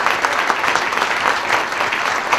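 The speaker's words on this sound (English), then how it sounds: "Let's have one more round of applause for our wonderful honorees." An audience at an achievement awards ceremony gives honorees a sustained round of applause, dense and steady clapping throughout without speech.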